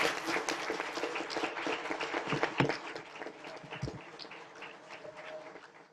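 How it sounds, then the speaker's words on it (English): Audience applause at a Tempe city council swearing-in ceremony after the police and fire honor guard posts the colors, a dense, steady clapping that carries on for the whole stretch with a few sharper claps and a slight fade toward the end. "Let's give a round of applause to our police and fire honor guard for posting the colors."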